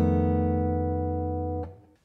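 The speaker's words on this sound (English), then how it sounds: "The dominant 7 flat 5 chord sounds like this." A dominant seventh flat five chord struck once on piano, ringing out cleanly and sustaining for about a second and a half before the sound is damped and fades away.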